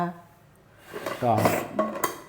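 Plates and dishes being washed up at home, with a few close clinks and clattering knocks of crockery toward the end, following a stretch of quiet and a brief voice.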